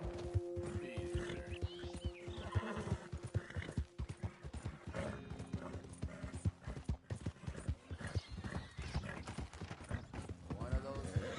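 Horse hooves clip-clop steadily at a gallop with an occasional neigh in Red Dead Redemption 2, the ride continuous and busy with game ambience and a voice talking over it.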